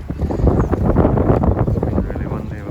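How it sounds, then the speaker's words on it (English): Strong wind buffets the microphone in an open pasture field, a loud, continuous low rumbling roar with gusty surges throughout. "Apologies for the wind"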